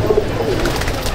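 Pigeons cooing inside a breeder pigeon loft, a steady overlapping murmur of soft low coos close by, continuous through the short moment with no talking.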